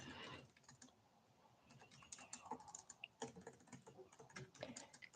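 Quick, light typing on a computer keyboard to write a chat message, a busy run of soft clicks close to the microphone and fairly quiet overall, with no talking.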